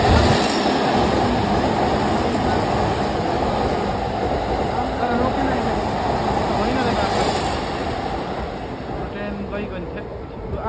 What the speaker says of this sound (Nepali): हाम्रो ट्रेन नि आयो